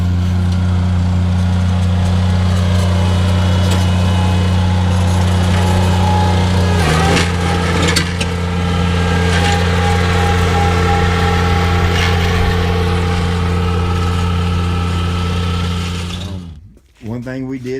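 A Grasshopper Aera-Vator coreless aerator's small engine runs loudly and steadily with a buzzing hum, briefly changing load partway through before cutting off near the end.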